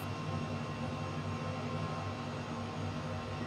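An EC 135 emergency helicopter in Microsoft Flight Simulator 2020 hovers toward a landing spot, with a steady broadband turbine and rotor roar that stays loud and unchanging throughout, and no talking.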